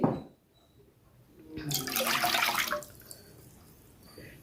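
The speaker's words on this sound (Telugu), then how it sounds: "మూకుడులోని రెండు కప్పులు నీళ్లు పోసుకున్నాను" Two cups of water are poured into a cooking pan for a sweet dish, a brief splashing gush rising after a quiet start and fading after about a second, with a few light drips at the end.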